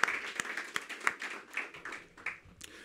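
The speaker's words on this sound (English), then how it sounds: "Let's give them a round of applause for all their efforts." Scattered audience applause at a Washington, D.C. grant awards ceremony, with sparse individual claps on and off for about three seconds, fairly quiet and a little distant.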